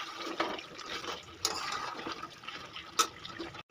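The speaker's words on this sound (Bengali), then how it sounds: "এবার আমি দিয়ে দেবো গরম জল" Hot water poured into a pot of cooking duck meat, a wet splashing pour with a few louder gushes, close by.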